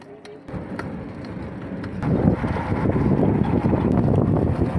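Wind buffets the microphone during a bike ride, a low, rumbling roar that grows stronger after the first couple of seconds.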